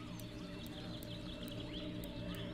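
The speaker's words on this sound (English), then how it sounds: "Probably hear the birds chirping." Birds chirp faintly and intermittently over a steady tonal ambient bed in the city-building game Cities: Skylines, with no other sounds prominent.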